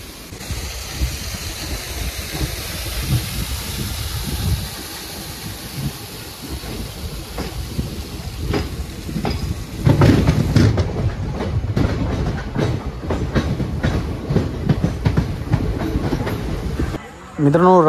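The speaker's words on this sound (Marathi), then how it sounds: "तर इथून ट्रेन सुटेल आपली." A Konkan Railway passenger train, a festival special, pulls out of a station at night. A steady rumble and hiss give way to a quickening clickety-clack of wheels on rail joints, loud and close, with a faint murmur of voices.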